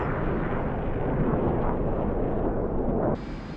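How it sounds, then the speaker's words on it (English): Mk 20 cluster bomb bomblets exploding in a continuous, heavy broadband rumble, loud and sustained like overlapping blasts merging together, then cutting to a slightly quieter roar near the end. "So these are cluster bombs, so they should blow up."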